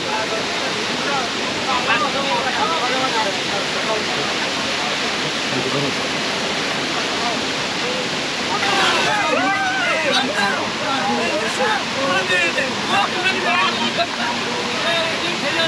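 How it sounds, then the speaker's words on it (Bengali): Madhabkunda waterfall in Moulvibazar, Bangladesh, swollen with monsoon rainwater running off the hills. It makes a steady, loud, broadband roar of falling water throughout, with faint voices mixed in near the middle. "এই যে ঝর্ণাটা দেখতে পাচ্ছেন,"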